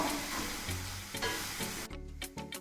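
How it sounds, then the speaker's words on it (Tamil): Curry leaves and onions fry in oil for vendhaya kuzhambu with a steady crackling sizzle. Background music with a few thumping beats sits under it, and the sizzle grows sparser near the end. "கருவேப்பிலை, வெங்காயம் நல்லா ப்ரௌன் ஆகட்டும்."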